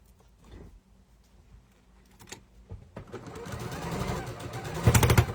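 Sewing machine stitching quilt block pieces for a sampler quilt, beginning after quiet handling taps and building into a continuous, rising run of stitching over the final seconds.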